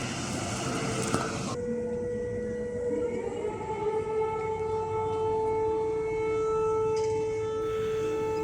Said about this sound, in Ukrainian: Чергова повітряна тривога, до якої мешканці Києва, здається, починають звикати.